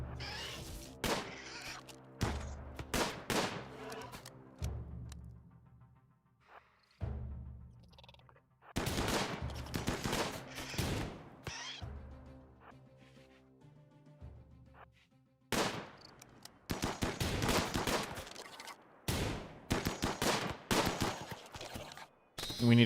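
Repeated bursts of gunfire from a RimWorld colony firefight, several clusters of rapid, loud shots separated by brief lulls, with no talking over them.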